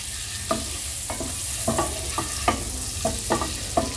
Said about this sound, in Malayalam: ഇതെല്ലാം കൂടെ നന്നായിട്ട് ഇളക്കി കൊടുക്കുക.